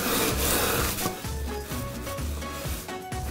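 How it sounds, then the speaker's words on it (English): A rolling pin crushes breadcrumbs inside a Ziploc bag, giving quiet, close crunching and rubbing over a few seconds in short, uneven passes. "pour the breadcrumbs into a Ziploc bag. And again, you wanna go in with your trusty rolling pin"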